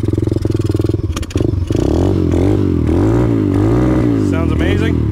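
A DB Tao pit bike's small engine idles with a rapid chugging beat and pops with sharp backfires, then revs up and down loudly up close, its pitch rising and sagging.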